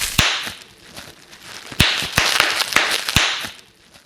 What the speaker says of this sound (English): the popping noise when you squeeze bubble wrap